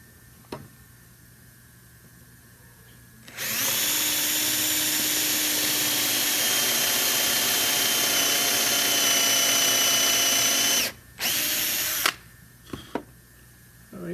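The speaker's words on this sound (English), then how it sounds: "So the first thing is we need to drill a hole here." A power drill whirs steadily into a 1.25-inch-thick piece of wood for several seconds, loud and close, then stops and gives a few short final bursts.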